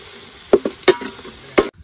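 Green chillies are tossed into a hot pan with small onions and sizzle as they are stirred, three sharp clattering scrapes over a soft frying hiss.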